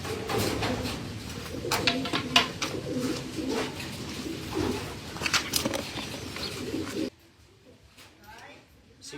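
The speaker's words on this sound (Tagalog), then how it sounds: "Ayan yung mga ibon natin guys." Racing pigeons coo repeatedly in low, throaty rolling calls close by, with occasional wing flaps and people talking over them, then the sound abruptly drops to near silence near the end.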